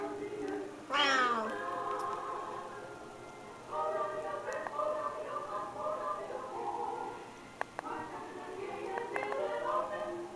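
Several Silver Bengal kittens meow repeatedly in high, overlapping cries, close by, with a person's voice murmuring softly in between.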